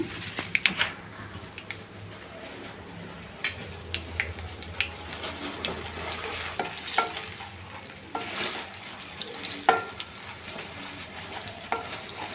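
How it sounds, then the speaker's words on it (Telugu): Chana dal sizzles and crackles steadily in hot oil for tempering, with frequent scraping stirs of a spoon against the pan and no voices. "శనగపప్పు వేసుకున్నాము శనగపప్పు తింటుంటే టేస్టీగా ఉంటుంది సో అందుకని పోపులో వేసుకుందామండి"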